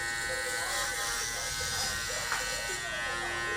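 Suprent Pro Black Obsidian cordless hair clippers cutting through the back of the head, giving a steady close electric buzz that runs throughout with slight changes as the blades move through hair.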